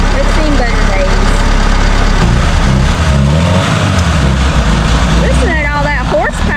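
The engine of a 1975 Chevrolet Vega runs loudly with a rough, continuous rumble that wavers slightly, while people talk over it nearby.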